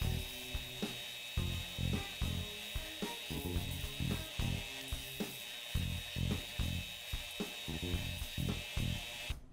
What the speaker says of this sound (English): The oscillating belt sander is good for cleaning up the edges and rounding off the corners.